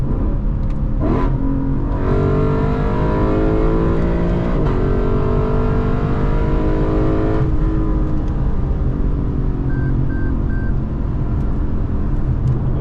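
A Lexus LC 500 in Sport Plus mode drives downhill on a curvy road, its engine loud and close in the cabin, revving up through rising gear sweeps with shifts between them, steady and without talk.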